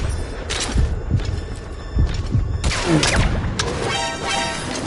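Gunfire from a Metal Gear Solid V firefight lands as a series of loud, irregular bursts and heavy thuds, close and punchy, mixed with mechanical clatter and brief voices.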